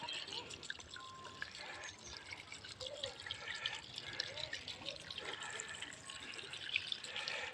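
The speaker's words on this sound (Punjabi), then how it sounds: "ਇਹ ਇੰਨਾ ਪਾਣੀ ਜੋ ਹੈ ਉਹ 24 ਘੰਟੇ ਚੱਲਦਾ ਰਹਿੰਦਾ ਹੈ" Steady trickling and splashing of spring water runs continuously, a gentle flow pouring into a still pond at a gurdwara, fairly quiet and unbroken throughout.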